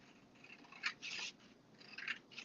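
Scissors trim slivers off paper for a mini album, with a few close, crisp snips and papery rustles in short bursts, no talking.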